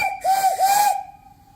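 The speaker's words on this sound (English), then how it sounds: "Blow the whistle." A short, loud whistle on an antique steam engine and boiler blows with a hissing rush, wavering briefly before cutting off and leaving a fading tone.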